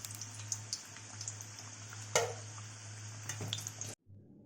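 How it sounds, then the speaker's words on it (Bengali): Crispy pea-filled kachoris frying in hot oil, a steady bubbling sizzle with scattered pops and crackles, alone and moderately close, ending abruptly. "আমি এবার কচুরিগুলোকে লাল লাল করে ভেজে নেব।"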